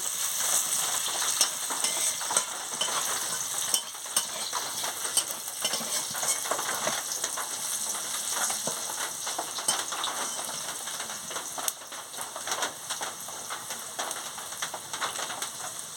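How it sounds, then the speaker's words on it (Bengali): Onions frying in a pan with whole tempering spices for a pumpkin and prawn curry, a steady dense sizzle with occasional stirring clatter, continuous and close throughout. "এবার আমি ফোড়নটা দিয়ে দিচ্ছি। পেঁয়াজের সঙ্গে দিয়ে ভালো করে ভেজে নিচ্ছি।"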